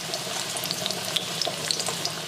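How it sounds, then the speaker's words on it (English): Breaded chicken sizzling in a hot pan, a continuous crackling hiss with scattered small pops, fairly quiet and steady. "lay in the chicken. I want a sizzle."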